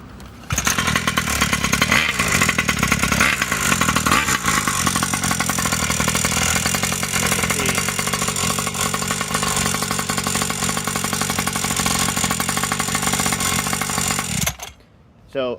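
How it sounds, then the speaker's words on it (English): A diesel engine idles steadily with a clattery, rumbling drone for about fourteen seconds, then cuts off abruptly. "I'm just going to run the engine for a second"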